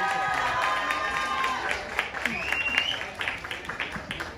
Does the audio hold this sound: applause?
yes